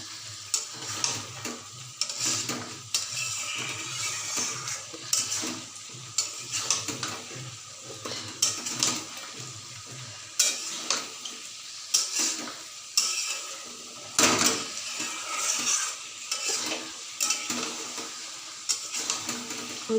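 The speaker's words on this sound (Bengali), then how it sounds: "এবার দেবো এতে আলু পটল চিংড়ি। এবার এটাকে ভালো করে কষাবো।" Potato, pointed gourd and prawns being sautéed with spices in a pan, with repeated scraping and stirring strokes over a soft background sizzle, close and moderately loud, no talking.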